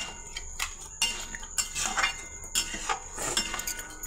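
A spoon scraping and clinking against a pressure cooker while stirring desi chicken curry, irregular metallic knocks and clatter in uneven bursts, close and fairly loud.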